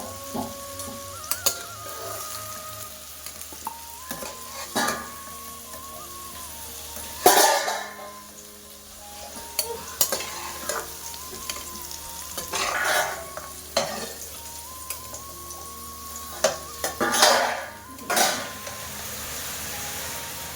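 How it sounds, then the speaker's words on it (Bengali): Potatoes frying in hot oil while being stirred and lifted out for a prawn curry, with steady sizzling broken by repeated metal scrapes and clanks of the utensil against the pan. "আলুগুলো এভাবেই লাল লাল করে ভেজে নিয়েছি"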